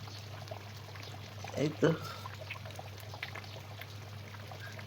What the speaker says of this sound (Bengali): এই তো এখন ঘি দিয়ে দেবো আমি, কারণ রোস্ট প্রায় হয়ে আসছে।